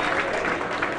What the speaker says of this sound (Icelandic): Við klappum hérna Dóri og Bubbi.